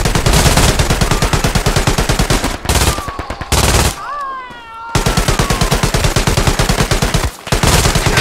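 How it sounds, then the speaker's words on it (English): Heavy machine gun fire in the World War II shooter Hell Let Loose, an MG42 rattling in long, loud, close bursts with a couple of brief pauses and a whistling sound during one gap. "He came out with the heavy machine gun."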